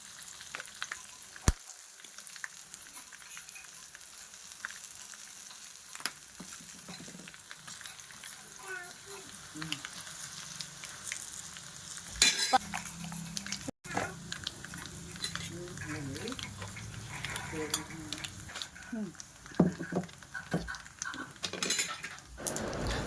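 Oil sizzles steadily in a pan as curry leaves and asafoetida temper, with scattered clinks and scrapes of a utensil stirring, growing busier toward the end.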